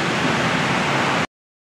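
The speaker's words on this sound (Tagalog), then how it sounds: "Guys, grabe ka ulan." Heavy rain pours down in a dense, steady roar, loud and close, filling the scene without pause before cutting off abruptly after a little over a second.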